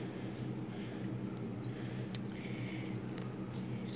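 A domestic cat purrs softly and steadily up close, a faint low rhythmic rumble running throughout in a quiet room, with one brief click partway.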